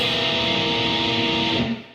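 A dissonant electric guitar chord from a song rings out once, sustaining loud and alone for nearly two seconds before decaying.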